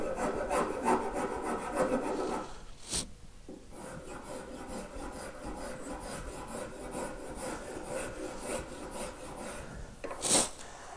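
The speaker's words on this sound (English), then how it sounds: "The rasp helps you refine and take the ridges out of the cutting surface" A rasp files steadily across a live-edge walnut countertop, a continuous close scraping rasp with a brief pause near three seconds and a sharp knock near the end; no talking.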